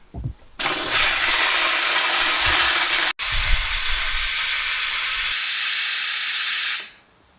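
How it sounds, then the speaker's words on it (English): Loud continuous steam hiss from a steamer used on bonsai deadwood bursts on and runs steadily for several seconds with a brief cut, then tapers off at the end. "And now just let the steam run."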